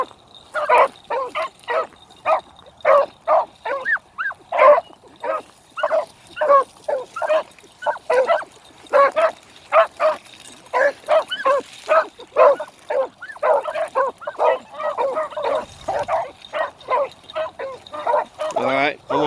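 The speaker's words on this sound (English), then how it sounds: "The two pups are going to leave Woodrow behind today." Two puppies bark and yip over and over in quick uneven bursts, fairly close and loud, with a few whimpers mixed in, on a dry windy day.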